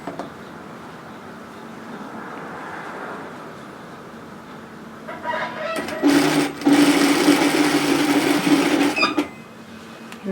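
A sewing machine stitches down a sweater strap in a straight row, a quiet hum that rises into a louder, steady whirring burst for a few seconds before easing off.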